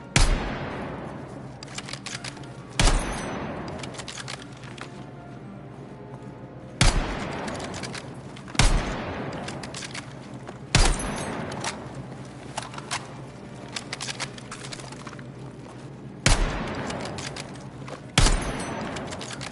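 Sharp gunshots from the Battlefield 6 beta shooter game ring out in separate bursts about every two to four seconds, each with a loud crack and a long echoing tail over a steady low battlefield rumble. No one speaks.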